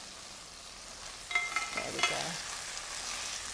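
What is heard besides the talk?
fish sizzling while frying in a hot pan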